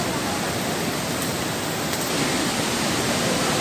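A waterfall drops inside a cave at Pokhara, giving a constant broadband roar of falling water, loud and unbroken, with no voices over it.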